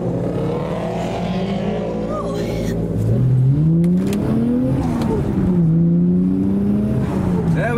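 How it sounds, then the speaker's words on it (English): Noisy JDM cars, including Evos, engine-swapped and boosted builds, pull away from a car show, their engines revving and climbing in pitch one after another, loud and close, with a brief rise in intensity midway. "there are some noisy cars leaving as well"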